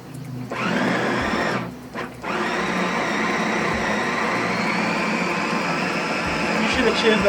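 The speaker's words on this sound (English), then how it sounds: "Put it in a food processor." A food processor whirs loudly and steadily close by, stopping briefly twice early on before resuming its continuous grinding hum, with no talking heard over it.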